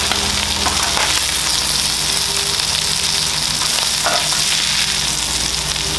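Ground meat for a chopped cheese sandwich sizzles steadily on a hot griddle, a loud, even frying hiss throughout with faint scraping touches and no voices.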